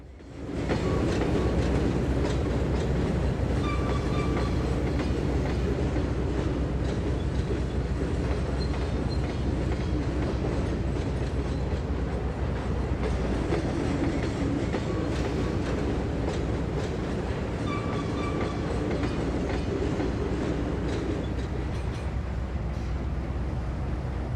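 Train cars loaded with diesel fuel tankers roll through Richmond Yard during switching in the Trainz 22 game, a steady rumbling clatter with rhythmic wheel clicks that runs continuously at even loudness.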